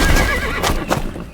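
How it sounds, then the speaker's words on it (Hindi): Galloping horse pulled up short, with a loud whinny over clip-clop hoofbeats in a brief, close burst. "ड्रैकुला ने अचानक अपने दौड़ते घोड़े पर लगाम लगाई"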